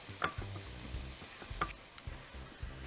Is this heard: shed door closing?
no